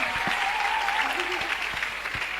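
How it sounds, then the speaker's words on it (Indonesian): Seminar audience at an Islamic university clapping steadily and densely throughout, a continuous wash of applause with a few low thumps. "tepuk tangan yang meriah untuk kita semua"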